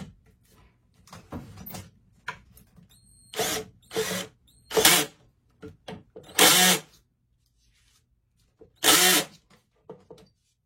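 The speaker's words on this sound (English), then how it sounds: "I'm gonna go put some screws in it." Power drill driving screws into a wardrobe, several short bursts of whirring with pauses between them, loud and close.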